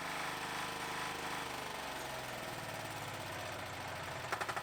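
A 12 HP diesel engine on a ProGARDEN Campo 1273 Alpine 4x4 tiller, started with a recoil pull cord, runs loud and close with a rough chugging drone that shifts in pitch and ends in a few heavy knocking pulses.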